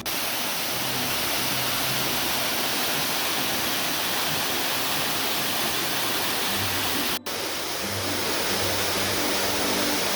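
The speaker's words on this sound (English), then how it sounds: "I found the real waterfall." A large waterfall in New Zealand roars steadily and close, a dense, unbroken rush of falling water with no voices over it.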